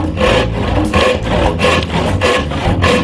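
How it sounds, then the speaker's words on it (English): A hand saw cuts a wooden tenon for a timber-framed workbench in steady back-and-forth strokes, about two per second, loud and close with a rasping wood texture. "when I'm cutting with the saw I don't tear out any fiber from that tenon"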